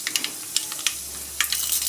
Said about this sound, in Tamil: இப்போ எண்ணெய் சூடாயிடுச்சுங்க கடுகு சேர்த்துக்கலாம்